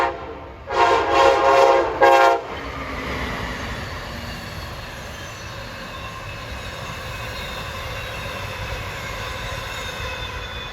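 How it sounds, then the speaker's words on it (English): An Amtrak train with EMD 645 diesel prime movers sounds three loud horn blasts, then rolls past with a steady rumbling roar of engines and wheels on rails that lingers for several seconds. "Don't you just love the sound of 645 prime movers?"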